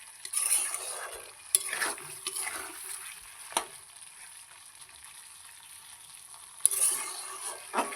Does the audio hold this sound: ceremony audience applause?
no